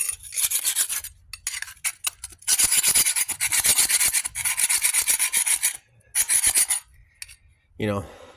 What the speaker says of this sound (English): And then I go behind it with my scraper